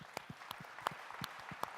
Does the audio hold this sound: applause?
yes